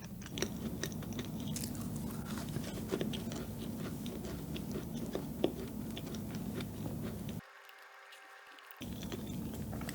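Crunchy black sesame bread from an old Busan bakery is chewed close to the mic in a steady run of soft crackling bites, with a brief pause near the end.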